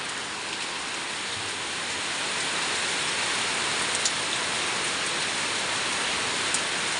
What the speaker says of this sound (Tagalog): Ito po yung panahon natin dito, oh. Yan, maulan.